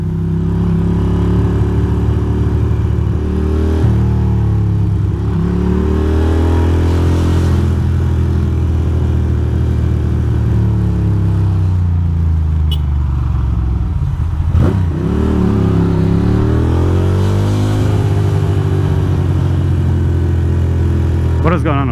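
A Ducati Monster motorcycle riding through New York City traffic, its loud engine droning close up throughout and repeatedly revving up and easing off in long swells, with a steady rumbling low end.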